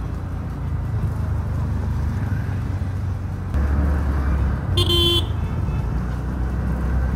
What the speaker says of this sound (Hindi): देख रहे हो कितनी ट्रैफिक है।